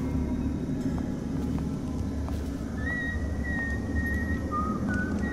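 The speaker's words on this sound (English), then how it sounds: "He's whistling." A guard in the Dishonored video game whistling a faint, wavering tune over a low ambient rumble, with a few brief clicks and no talking.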